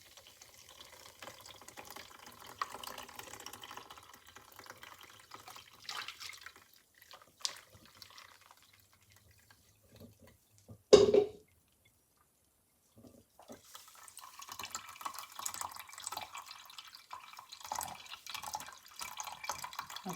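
Green juice of spinach, lettuce and cucumber with a splash of lemon being strained, faint trickling and scattered drips close by, with a brief louder splash midway and quiet stretches between.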